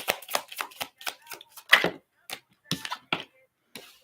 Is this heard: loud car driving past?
no